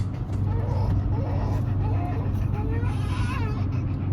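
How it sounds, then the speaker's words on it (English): Idling and creeping cars in a Los Angeles traffic jam, heard from inside an RV as a dense low engine rumble that holds steady throughout, with a voice and a whining sound over it. "right now, we just so happen to be stuck in the middle of one of LA's famous traffic jams"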